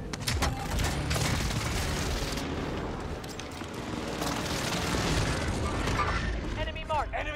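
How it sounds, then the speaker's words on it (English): Airstrike explosions in Call of Duty Warzone, deep rumbling booms and crackling blasts rolling continuously under game announcer voice lines, loud and fairly near. "Airstrike, stay alert."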